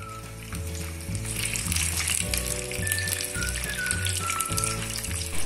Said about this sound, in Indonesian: Dibolak-balik ya gorengnya ya mamis agar matangnya merata.